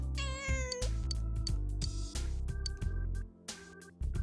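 A cat in the video game Persona 4 Golden meows several times, loud and close, its high pitched cries set over steady in-game background music.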